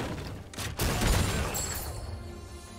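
Cannon blast in League of Legends, Gangplank's cannon firing as a booming, crackling burst close up, followed by a fading rumble.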